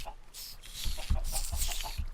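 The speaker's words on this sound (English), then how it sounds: "God, those chickens are annoying." Chickens in the game Minecraft clucking repeatedly in short, uneven bursts, fairly loud and close, with no talk over them.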